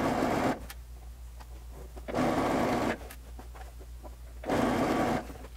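A sewing machine stitches a double-folded hem on a dress in three short bursts of whirring, separated by quiet pauses with small handling noises.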